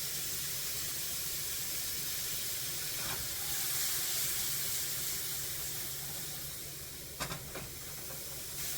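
Half an onion and four cloves of garlic sauteing in a pan, giving a soft, constant hiss and sizzle with a couple of brief clicks near the end and no speech.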